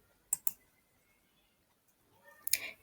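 A few sharp computer mouse clicks, two in quick succession near the start and a cluster at the end, close and quiet with silence between.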